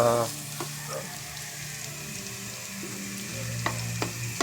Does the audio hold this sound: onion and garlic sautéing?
yes